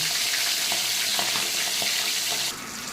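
A Katla fish head fries crisp in hot oil in a wok, giving a steady, dense hiss and sizzle with a few faint pops, which eases slightly near the end.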